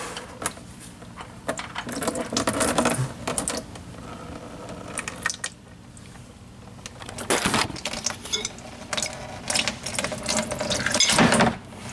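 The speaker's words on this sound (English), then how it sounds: "So I'm trying to remove the bolt right now." Ratchet working to loosen the oil drain bolt under a Mazda Miata, with clicking, uneven mechanical bursts across about twelve seconds, close up, pausing briefly in the middle before resuming, no voices.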